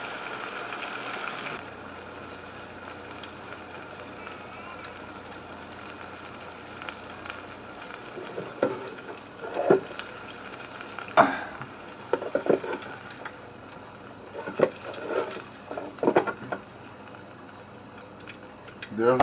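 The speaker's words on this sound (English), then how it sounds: "now we have the deer oysters in the deep fryer" Deer oysters fry in a deep fryer with a soft, steady bubbling sizzle, joined in the second half by scattered louder pops, crackles and clinks at close range.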